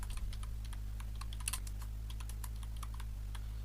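Someone types a search query on a computer keyboard, tapping out a quick run of clicky keystrokes in an irregular rhythm over a steady low hum.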